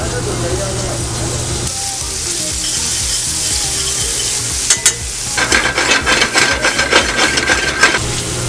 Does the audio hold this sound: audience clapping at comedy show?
no